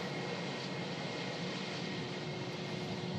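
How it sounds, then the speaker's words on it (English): A Turkish Airlines A321 jet heads out on a flight to Istanbul, its engine roar a faint, steady, distant broadband rumble that holds evenly throughout, with no voices. "here's the Turkish A321 heading to Istanbul on the return leg"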